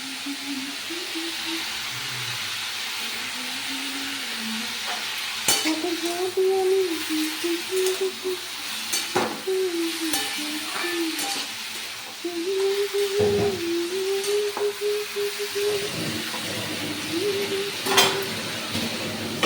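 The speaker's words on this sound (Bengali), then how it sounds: "এটা হাই ফ্লেমে ভাজতে হবে নাহলে গলে যাবে" Food frying on a high flame, a steady, close sizzling hiss with occasional stirring clicks and scrapes, while a steady tonal hum rises and falls over it.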